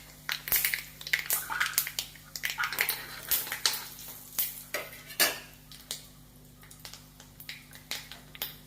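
Mustard seeds and urad dal frying in a hot pan give off scattered sharp pops and crackles over a steady low background hum, with no one talking.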